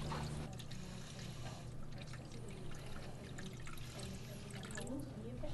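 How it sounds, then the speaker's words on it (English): Water being poured into a prototype speaker box to measure its internal volume, a steady pouring and trickling wash running throughout, close and fairly quiet with low background hum. "I'm going to pour water in here to actually see how much water holds in the volume"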